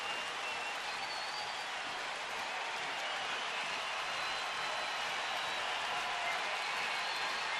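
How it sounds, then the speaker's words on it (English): Baseball stadium crowd at a Yankees–Indians game with bases loaded, a dense, steady roar of cheering and hollering that fills the space, distant and continuous. "This crowd hooting and hollering."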